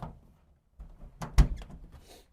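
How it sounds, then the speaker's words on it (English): A heavy side door on a 1964 Volkswagen bus slides and thuds open with a loud clunk in the middle, followed by faint rattling. "let me open up the side door for you"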